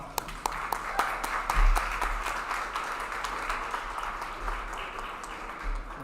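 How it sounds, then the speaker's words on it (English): Audience at a disability mentoring day reception clapping together, a moderate, steady patter of applause with distinct individual claps audible throughout, heard at some distance in a room. "So can we give everybody a round of applause?"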